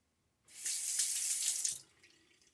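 A tap gushes for just over a second as a Blackland Era razor with a Personna Super blade is rinsed, the rush of water starting abruptly and tailing off into faint trickles.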